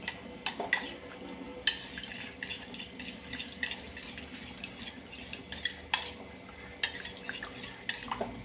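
A spoon stirring curcumin into a homemade soap mixture, giving a steady run of soft scraping and light clinks against the container, with sharper taps now and then. It is close and continuous, and nobody speaks.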